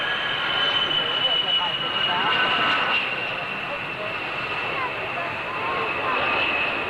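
An A-10 military jet at Mildenhall gives off a loud, steady engine roar with a high whine running through it, holding an even level throughout.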